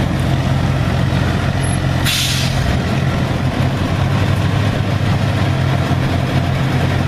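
A dump truck idles with a steady low diesel rumble, then lets out a sharp, loud hiss of its air brakes near the two-second mark before the engine drone carries on alone.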